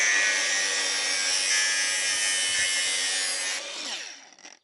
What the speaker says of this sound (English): when in doubt, get the angle grinder out